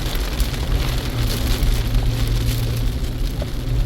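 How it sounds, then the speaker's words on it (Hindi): Heavy rain pours onto the road along the Dwarka Expressway in Delhi, a dense, loud, continuous hiss with steady low traffic rumble beneath and no voices. "देखिए बारिश है यहाँ पे"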